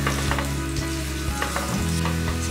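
Onions frying in a pan on a seaside cookout, a steady close sizzle with a few soft stirring scrapes and no talk.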